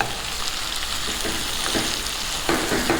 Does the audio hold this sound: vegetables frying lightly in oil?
yes